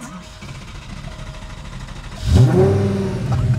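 An Audi fitted with a swapped Lamborghini engine is cranked over, and after about two seconds of background noise it fires up with a loud, sudden rise into a rough revving idle close by.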